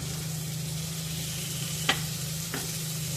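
Fish pieces are flipped in a hot frying pan, giving a steady sizzle of frying with a low hum beneath and two short sharp scrapes or taps near the end as the pieces are turned.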